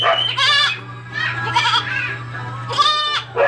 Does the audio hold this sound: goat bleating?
yes